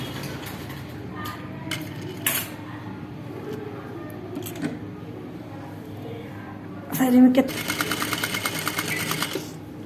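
A sewing machine stitches a kameez side hem with piping, running at a low, steady whir under faint background talk, then breaking into a louder, faster rattling burst of stitching near the end.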